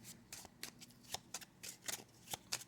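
Tarot cards are shuffled close by in a quick series of crisp riffling bursts, each followed by a short pause, with no talk over them.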